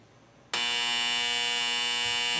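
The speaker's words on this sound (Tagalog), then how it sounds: "so that's a louder buzzer" A loud, harsh electronic timer buzzer at a university senatorial debate cuts in abruptly after a quiet moment and drones on continuously at full strength.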